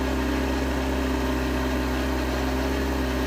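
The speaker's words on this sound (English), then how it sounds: "Kawasaki Z H2 SE." A 2021 Kawasaki Z H2 SE supercharged motorcycle engine idles with a steady low hum and constant vibration, close and alone.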